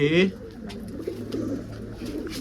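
Pigeons with clipped wing feathers cooing inside a coop, a low, soft burbling that continues steadily beneath a brief voice at the start.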